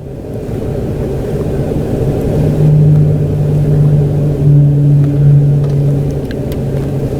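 A 2014 Chrysler Town & Country with a misfiring 3.6L engine is revved, its loud, close droning hum rising and holding in two swells before easing back, with no talk.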